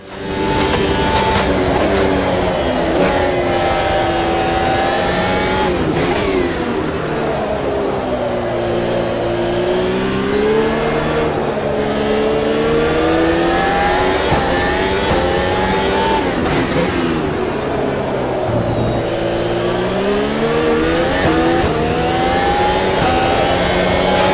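A race car engine in the Automobilista 2 video game roars steadily through a hot lap, loud and continuous, its pitch repeatedly climbing and dropping through gear shifts and corners, with no talking.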